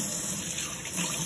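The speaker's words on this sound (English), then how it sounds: "So first, we are going to turn on our water, our faucet," Kitchen or bathroom faucet running for handwashing, a steady close splashing stream of water into a sink with no voices.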